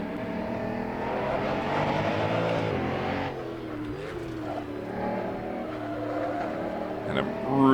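Koenigsegg One:1 hypercar engine held in third gear in Assetto Corsa, a dense harmonic drone that sustains loudly, dips briefly, then rises again with a short rev flare near the end.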